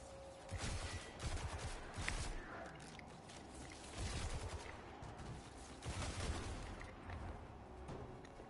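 Assault rifle hipfire in the video game Destiny 2, with sustained bursts of rapid automatic gunfire that come in repeated waves over several seconds, loud and dense, with no voices.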